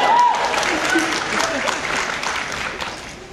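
Audience applause at a Comic Con London press panel, a steady wash of many hands clapping at moderate distance that fades gradually across the clip.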